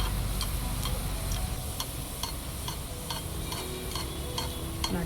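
Buns bubble and sizzle in hot oil, a dense steady frying hiss with faint regular ticking pops running through it, close and continuous with no voices.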